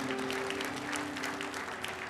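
Steady applause from a church congregation, dense clapping throughout with a low sustained tone underneath.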